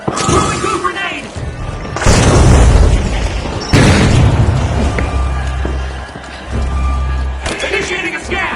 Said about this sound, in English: Throwing two grenade!